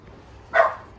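A dog outdoors at a rural country store gives a single short bark, loud and close, standing out briefly against quiet surroundings.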